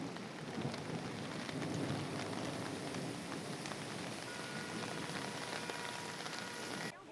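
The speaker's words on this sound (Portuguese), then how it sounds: "A temporada de chuvas chega com força" A heavy rainstorm in Brazil's Federal District: dense, steady downpour hissing loudly and continuously on surfaces for several seconds, with no voices, before cutting off abruptly.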